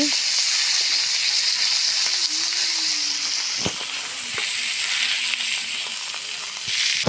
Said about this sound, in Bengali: মাছটা ভাজা হচ্ছে দেখুন বন্ধুরা